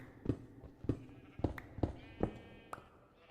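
Minecraft sheep bleat repeatedly in a loose rhythm, six or so short nasal cries spaced about half a second apart, fairly close and clear with no talking.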